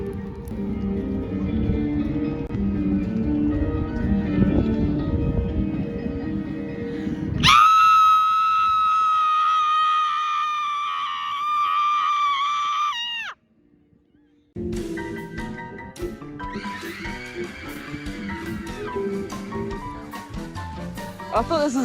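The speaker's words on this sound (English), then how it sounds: "This installment is called Take a Knee and Scream Until You Can't Breathe." Crowd screaming at the Dark Mofo art installation "Take a Knee and Scream Until You Can't Breathe" in Hobart, Tasmania: a dense roar of voices, then a long sustained high scream, a brief drop to near silence, and more layered screaming.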